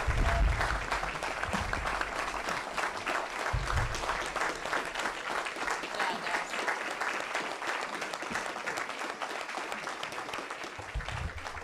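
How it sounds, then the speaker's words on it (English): A room full of people applauds the candidates at a town candidates' night in Montgomery, steady sustained clapping at moderate distance lasting several seconds, with faint low murmurs underneath. "Ladies and gentlemen, the candidates, give them a round of applause."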